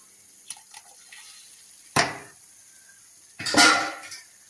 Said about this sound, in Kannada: ಸೊಪ್ಪು ಬೇಯಿಸ್ಕೊಂಡಿದ್ದು, ಆ ನೀರು ಹಾಕಿ ಹಾಕ್ತಾ ಇದ್ದೇನೆ